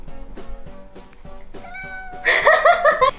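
A pet cat meows indoors, several short soft mews spaced at a slow rhythm, then a louder, longer drawn-out meow rising at the end, heard close up.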